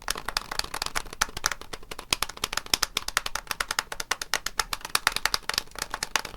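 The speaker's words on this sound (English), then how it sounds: "It sounds like you're typing on a mechanical keyboard. You know, it's really clicky tapping type of thing." Mechanical clicky fret buttons on a blue CRKD guitar controller are tapped in quick, sharp, uneven bursts of clicks, much like typing on a mechanical keyboard. The clicks are close and crisp, with no voices.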